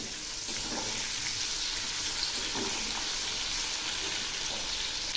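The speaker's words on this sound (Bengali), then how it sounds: "এবার আমি মাছগুলো ছেড়ে দিচ্ছি, একটু নেড়ে দিচ্ছি" Prawns sizzle and fry steadily in hot oil in a wok, with occasional stirring scrapes over a continuous, fairly loud crackle that runs throughout.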